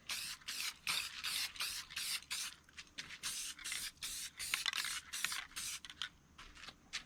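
Short bursts of satin base coat from a spray can hiss over an artificial rock, roughly a dozen quick repeated sprays at close range, fairly faint, with no talk.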